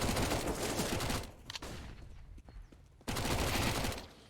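Rapid rifle gunfire from a competitive CS:GO match crackles in two dense bursts, the first opening the stretch and the second arriving after a short gap of scattered footsteps and fainter shots, with no talk over it.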